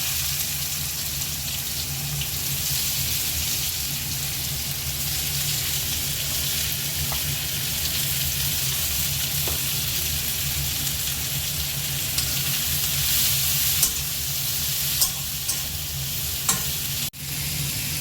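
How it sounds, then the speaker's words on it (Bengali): Onions frying in oil left over from frying fish, a dense, even sizzle held close and steady for the whole stretch, with a few small clinks near the end and no voices. "এবার মাছ ভাজার তেলেই পেঁয়াজ ভাজতে দিয়ে দিচ্ছি"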